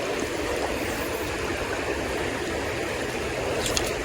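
Penns Creek rushes steadily past in a broad, even wash of flowing stream water, close and fairly loud, with no voices.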